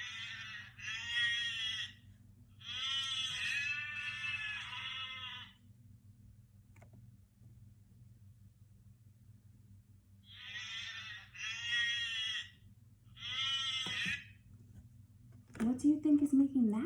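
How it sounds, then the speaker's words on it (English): A goat on a farm bleats in several loud, wavering calls, grouped in two bursts separated by a quiet stretch, over a low steady hum. "That is the sound of a goat."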